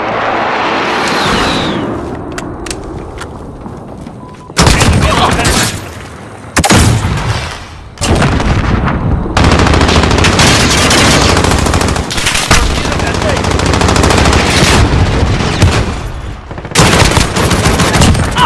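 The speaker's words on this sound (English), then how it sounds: "Allied precision airstrike in." Dense, continuous video game gunfire and booming airstrike explosions in a military shooter match, loud and relentless with heavy blasts and rattling automatic fire throughout.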